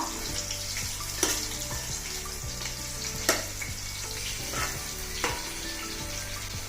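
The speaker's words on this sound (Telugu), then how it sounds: "ఉల్లిపాయ ముక్కలు. ఈ సైజు ఉల్లిపాయ తీసుకున్నాను. వీటిని దోరగా వేగనిద్దాం." A cup of thinly sliced onions frying in a wide, shallow pan, giving a steady close sizzle broken by a few sharp clanks and scrapes from stirring.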